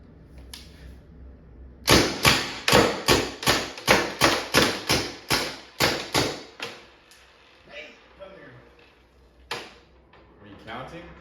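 A Tippmann TMC paintball marker powered by CO2 fires through a magazine, about fifteen sharp pops in a quick steady rhythm, followed by scattered handling clicks and a later lone shot, with a voice talking faintly between.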